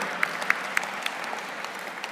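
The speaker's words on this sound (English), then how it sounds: "Can we give them all another round of applause?" Applause at a gala evening, a dense spread of clapping with a few sharper near claps standing out, steady and moderately loud.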